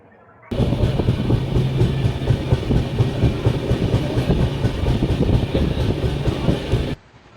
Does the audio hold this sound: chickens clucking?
no